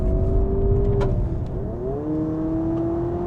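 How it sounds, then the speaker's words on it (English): A 2026 Honda Prelude's engine blips and revs during a rev-matched downshift, pitch dropping then climbing steadily as the gear changes, loud and close with no talking. "it allows me to rev match the engine"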